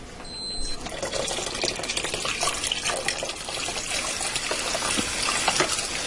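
Beef broth pours steadily from a carton into a soup pot, a continuous liquid gush and splash with no speech, lasting several seconds.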